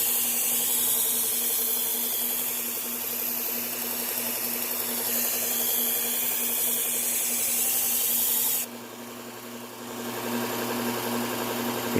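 Thick hunting knife ground on a belt grinder, a steady high motor hum with a gritty, rasping rub of steel on the abrasive belt that changes tone partway through as the blade is repositioned.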